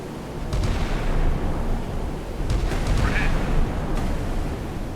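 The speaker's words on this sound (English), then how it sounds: "you'll see that the ships will react to get their guns on target" Ship guns fire at enemy targets in a naval combat video game, with a dull, continuous rumble of booming bursts and explosions rolling on throughout, loud and steady with a few sharper cracks standing out.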